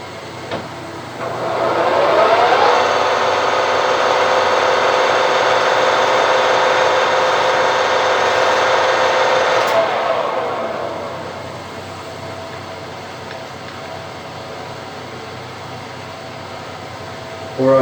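Lathe running at around 250 RPM while cutting threads on a metal decompression valve adapter, a steady droning hum that swells in, holds evenly for several seconds, then winds down, close and fairly loud.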